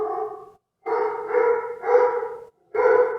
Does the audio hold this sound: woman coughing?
no